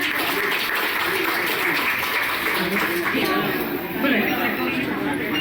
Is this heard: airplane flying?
no